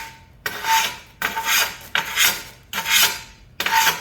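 A sanding stone rasps back and forth across the edge of a porcelain tile in five firm, evenly spaced strokes, each a loud gritty scrape separated by short pauses.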